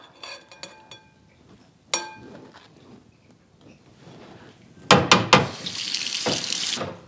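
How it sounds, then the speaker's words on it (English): Tap water runs steadily onto food being rinsed in a kitchen sink, a loud continuous splash after a few light clinks of utensils and bowls. "And we will also rinse them."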